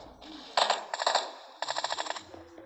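M16 rifle fire in a video game: three rapid bursts of sharp automatic shots, loud and close, separated by brief pauses, with no talking.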